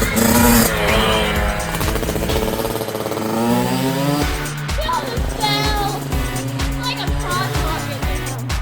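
A Kawasaki KX65 dirt bike engine revs loud and close, its buzzy two-stroke note climbing and dropping through repeated throttle blips and gear changes, with voices talking over it.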